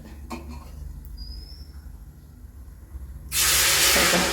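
Ghee hits a hot bronze uruli while making ada pradhaman, bursting into a loud, steady sizzling hiss in the last second after quieter kitchen background.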